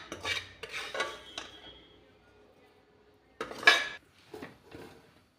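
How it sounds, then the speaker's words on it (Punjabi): Roasted semolina for upma is scraped and tipped from a pan into another vessel, with several metallic scraping and clinking bursts of spoon on cookware, a quiet pause, then more clattering strokes. "ਸੂਜੀ ਆਪਣੀ ਤਿਆਰ ਆ ਆਪਾਂ ਇਹਨੂੰ ਇੱਕ ਭਾਂਡੇ ਦੇ ਵਿੱਚ ਕੱਢ ਲਾਂਗੇ"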